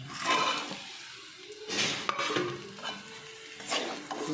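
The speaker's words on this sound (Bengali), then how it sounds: "রসুনগুলোর কিন্তু কালার একটু চেঞ্জ হয়ে গেছে এবারে চিকেনগুলো দিয়ে দিচ্ছি" Chicken pieces drop into garlic and curry leaves frying in a pan, then get stirred, giving bursts of sizzle and scraping in uneven waves, close and moderately loud with no talking.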